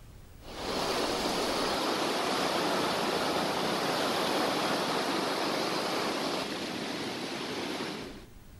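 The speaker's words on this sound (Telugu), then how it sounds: "పరిగి వికారాబాద్ మధ్య నర్కస్ వాగు పొంగుతోంది" Narkas stream between Parigi and Vikarabad overflowing after heavy rain, a steady dense rush of water that fades in, holds evenly, and fades out, with no voices.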